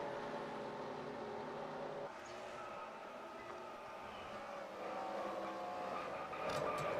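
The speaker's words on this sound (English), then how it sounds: "18 goes into the wall and they wreck up ahead." Several stock cars in NASCAR Racing 2003 on the Texas oval, with engines roaring steadily, a sudden shift as one car slams into the wall and others wreck ahead, and sharp tire squeals near the end.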